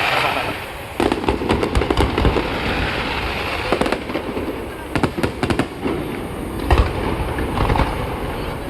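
Chinese New Year fireworks in Binondo, Manila bang repeatedly in irregular clusters over a steady crackling outdoor background, some blasts loud and close, others more distant.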